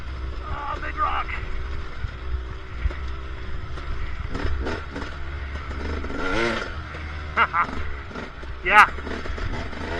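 A KTM 300 two-stroke dirt bike fitted with a Billitrron carburetor runs while being ridden over rocky off-road ground, a low engine drone with throttle surges and wind rumble, under a rider's brief exclamations.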